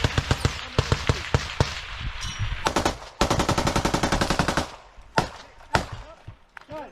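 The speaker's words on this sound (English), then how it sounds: "One guy on that machine gun." Machine gun fire in combat comes in rapid, sharp automatic bursts and scattered single cracks, loud and close, with short pauses between volleys.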